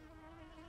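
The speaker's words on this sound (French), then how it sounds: "Une abeille." A cartoon bee drones in a steady, even buzz that holds alone for under a second, close and fairly quiet.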